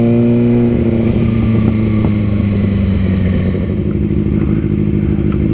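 Twin-turbo V12 of a Mercedes SL65 AMG revving loudly and steadily, a deep continuous engine roar with rising harmonic tones close by throughout, blended with road and wind noise.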